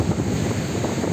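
Sea waves roll onto Malvan beach under a strong sea breeze, producing a loud, steady roar of surf mixed with wind buffeting the microphone, with no one speaking.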